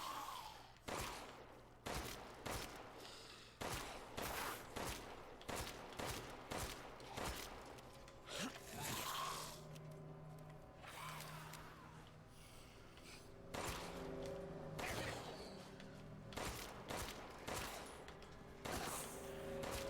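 Gunfire rings out in the horror game Resident Evil Village, a string of sharp shots fired in bursts and single cracks against a low ambient backdrop, with no talking.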